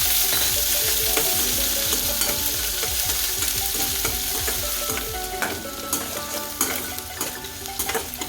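Onions with five or six dried red chillies crackle and sizzle loudly in a pan while being cooked for agathi keerai, with a steady busy hiss and frequent clinks and scrapes of stirring.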